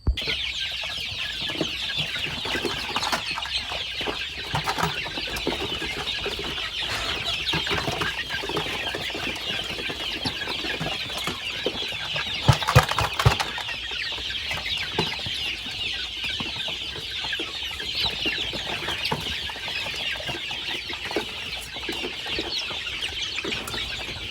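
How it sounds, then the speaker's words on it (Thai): Nearly two hundred free-range chickens cluck and chatter continuously while fed feed mixed with ground leftover grass, a dense steady flock sound with occasional louder calls and brief wing flaps. "ให้อาหารไก่น้อยโดยใส่ลำหญ้าเนาะ"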